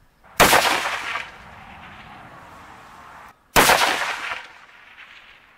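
Two loud, sharp reports from a 22-250 rifle fired at targets 800 yards away, spaced about three seconds apart, each with a long fading echo rolling across open ground; no talking.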